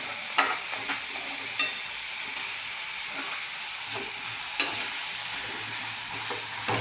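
Tomatoes tipped into a hot frying pan sizzle steadily with a broad hiss, while a spoon stirs them with a few sharp scraping knocks against the pan.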